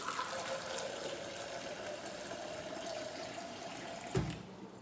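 Steady running water pours into a container for several seconds, a continuous hiss, ending with a brief clunk near the close.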